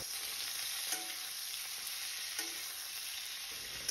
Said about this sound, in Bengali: তো সাইডে এবার সবজিগুলো ভেজে নেব।